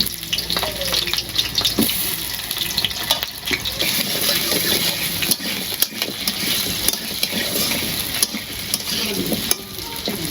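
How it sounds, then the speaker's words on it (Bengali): Potatoes fry lightly in a pan while being stirred, a dense, loud, continuous sizzle with scraping stirs for chicken polao, no voices over it. "আলু দিয়ে হালকা ভাইজা নেব।"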